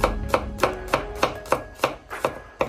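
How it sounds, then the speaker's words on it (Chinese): A kitchen knife slices garlic cloves into thin slices on a cutting board, about nine crisp, evenly spaced chops close up, with no voices. "把大蒜切成薄片"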